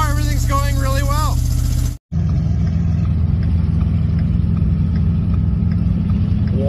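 An old square body dump truck's engine rumbles steadily while driving, with heavy vibration; a voice talks over the first two seconds, then the low engine drone continues alone after a brief cut.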